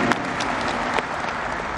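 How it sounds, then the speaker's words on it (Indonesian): Applause from a crowd at a Jokowi volunteers' gathering at JEC Yogyakarta, a steady dense patter of many hands that fills the short moment at an even level. "Tepuk tangan untuk panitia dulu yang mengawal acara ini."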